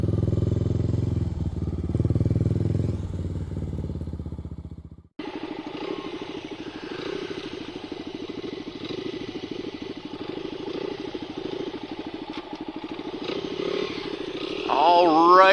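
Motorcycles used for exploring the Arizona desert on a camping trip, a steady close engine chug running continuously after a brief different noise at the start, with a rising whine near the end.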